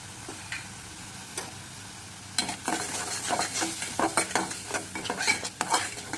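Poppy seed and green chili paste fries in a pan, a quiet sizzle broken by stirring scrapes and clicks that start sparse and turn into a busy run of close stirring in the second half.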